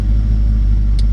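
A 1932 Ford Deuce convertible roadster idling, a loud, close, steady low engine rumble throughout a brief moment, with a faint higher click near the end.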